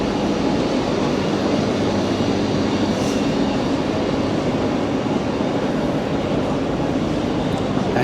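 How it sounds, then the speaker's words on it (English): A train sits at a platform in Paris, giving off a steady low mechanical hum and rumble with a diffuse station wash around it, continuous and fairly close. "here's a dirty train."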